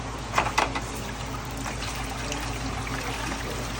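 Cleaning solution poured into a Stoelting soft serve machine, a steady liquid trickle with a couple of brief splashy bursts near the start, then a continuous pour at moderate level with no voices.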